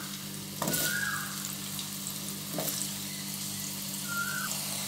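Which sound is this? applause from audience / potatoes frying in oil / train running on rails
potatoes frying in oil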